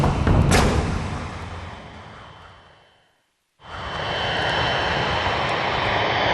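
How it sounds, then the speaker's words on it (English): Engines of a damaged Boeing 747 on landing approach roar in a broad, loud wash that fades away to near silence, then a second steady engine roar returns abruptly and holds. "747 lined up for landing, the pilots knew they would only have one chance."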